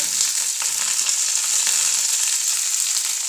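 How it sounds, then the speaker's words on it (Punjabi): Onion and capsicum frying in a pan with browned garlic, a steady loud sizzle throughout with faint stirring scrapes and no voices. "ਇਹਨਾਂ ਨੂੰ ਆਪਾਂ 1-2 ਮਿੰਟ ਲਈ ਕੁੱਕ ਕਰ ਲੈਣੇ ਲਓ ਜੀ ਪਿਆਜ਼ ਤੇ ਸਿਮਲਾ ਮਿਰਚ ਆਪਣੀ ਪੱਕ ਗਈ"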